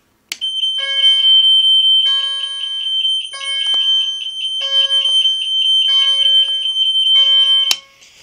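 A loud fire alarm system under test blares nearby, set off from a pull station, with a continuous high electronic tone and repeating pulsed horn bursts, cutting off abruptly at the end.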